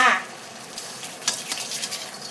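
Egg whites beaten with fish sauce fry in hot oil, a soft continuous sizzle with small crackling pops that follows a brief louder splash at the start.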